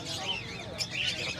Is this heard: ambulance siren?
no